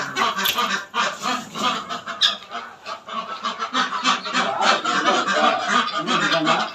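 Geese or ducks in a garden honk and cackle noisily at close range, with black hens among them and voices chatting over the birds.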